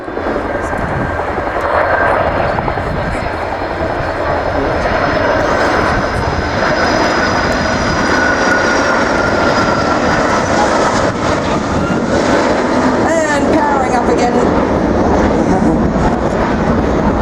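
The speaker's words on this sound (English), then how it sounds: "It's amazing how graceful such an enormous aircraft looks in the small confines of a flying display." A Royal New Zealand Air Force Boeing 757 jet makes a slow, low pass with its landing gear down at an air display, producing a loud, continuous engine roar and whine with a steady rumble. An announcer talks throughout.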